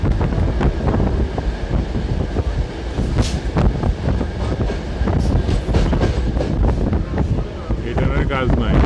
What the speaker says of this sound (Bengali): আরো একটা ট্রেন ঢুকবে